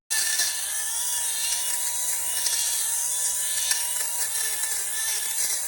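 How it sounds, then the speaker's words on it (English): A steady, close mechanical whir with a gritty, crackling chatter on top, running continuously as an electric fabric shaver depills a sweater, shaving and vacuuming up the pills. "It was like both shaving off the pills and vacuuming them up at the same time, sucking them in."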